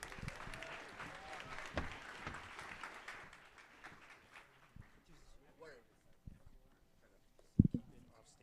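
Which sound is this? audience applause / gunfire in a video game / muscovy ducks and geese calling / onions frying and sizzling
audience applause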